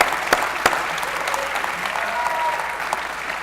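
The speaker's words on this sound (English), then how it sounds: "Give them another round of applause." A lecture audience applauds a group of students, a broad wash of clapping with a few sharper nearby claps standing out and a faint voice underneath.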